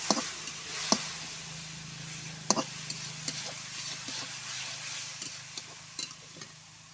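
Turmeric and garam masala are stirred in a hot pan for chapati curry, giving a soft sizzle with scattered ticks and scrapes from the spoon.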